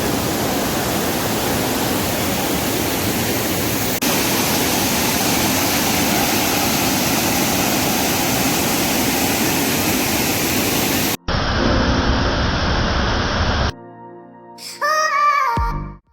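Krangsuri waterfall roars as a steady, loud broadband rush for about eleven seconds before the sound cuts off into quieter, choppy fragments.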